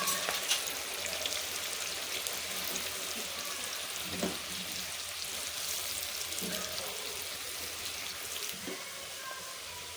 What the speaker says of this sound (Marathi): आपण साईड बाय साईड कांदा तळून घेणार आहोत.